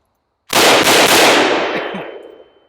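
A gun firing cherry tomatoes lets off a single loud, sharp blast that ends in a long, fading hiss. A brief silence comes before it.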